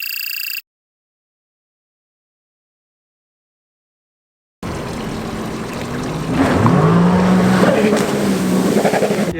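Sea-Doo RXT-X 300 jet ski cruising on water, a short burst, then silence, then the engine rising into a strong droning roar with water rush and a shifting whine as it runs.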